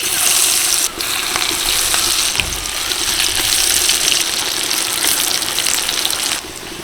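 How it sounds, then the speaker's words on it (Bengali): Young jackfruit pieces frying in hot white oil make a loud, dense, continuous sizzle close to the pan, with no voices. "তেল ভালোভাবে গরম করে নিয়েছি এবার আমি এঁচোড়গুলো দিয়ে দিচ্ছি তেলের মধ্যে"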